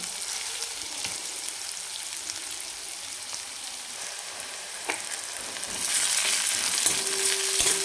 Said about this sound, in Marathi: शिजत आला आहे कांदा